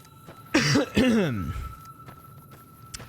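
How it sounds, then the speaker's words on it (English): Two harsh coughs in quick succession, close and fairly loud, followed by quiet background with a faint hum. "Oh, if I could just stop coughing."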